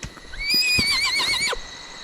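A horse gives a single loud, wavering whinny lasting about a second, close by, with a few faint hoof clops before it.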